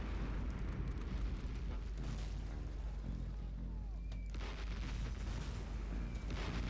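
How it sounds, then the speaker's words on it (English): Bombing in the wartime strategy game Close Combat Cross of Iron produces rolling explosions and booms, a dense continuous barrage with a few sharper blasts standing out, heard without speech. "It seems they're bombing also our positions"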